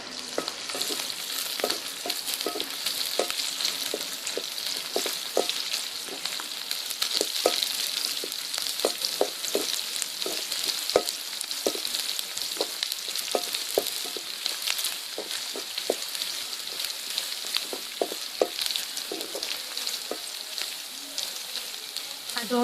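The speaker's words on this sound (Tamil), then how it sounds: "அடுத்து கருவேப்பிலையும் பூண்டையும் சேர்த்து நல்லா வதக்கிக்கலாம்." Onion, green chili, curry leaves and garlic sauté in a pan for a raw banana (vazhakkai) stir-fry. A dense, steady sizzle plays throughout, dotted with frequent light clicks and spatters from stirring.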